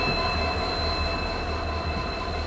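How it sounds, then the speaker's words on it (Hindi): Train pulling into a station with its wheels squealing in high, sustained metallic tones over a continuous rumbling roll, loud and close, with no voices. "अपनी ट्रेन जैसे ही आई है"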